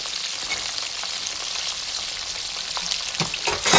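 Chicken pieces fry steadily in hot ghee, a continuous crackling sizzle throughout, swelling louder at the very end; no voices.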